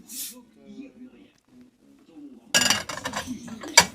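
Ceramic dinner plates, 22 cm in diameter, handled together with sharp clinks and clatter in a short busy burst after a stretch of quiet talk, ending in one bright ringing knock.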